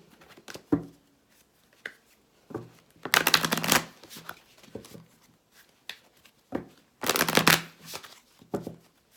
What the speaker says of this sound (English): I'm going to pull from my color deck.